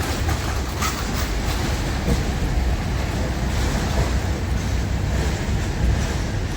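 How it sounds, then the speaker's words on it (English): A small tourist road train rumbles past steadily close by in a small town, with a continuous low drone and clattering wheels, and no talking. "they've got a little train thing to take people around"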